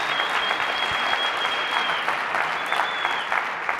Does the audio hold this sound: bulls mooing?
no